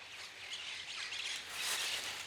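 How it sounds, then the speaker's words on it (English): Birds squawking loudly and continuously, harsh overlapping calls with a few chirps, close and dense, with no talking. "These birds are annoying."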